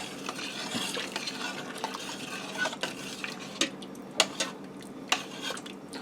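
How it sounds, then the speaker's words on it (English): A spoon stirs cream cheese into sausage pasta inside an Instant Pot, with steady scraping and sticky, sizzling stirring sounds and a few sharp clicks of metal against the pot, fairly close. "I'll just stir the rest of that cream cheese in there"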